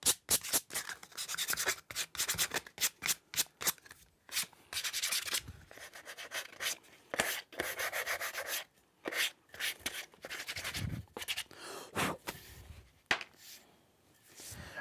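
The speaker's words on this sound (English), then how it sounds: "I'm just gonna go around and just briefly hit everything with some rough sandpaper." Rough sandpaper is rubbed by hand over a wooden joiner's mallet in quick, uneven scratchy strokes with short pauses, close and fairly quiet, with no talking.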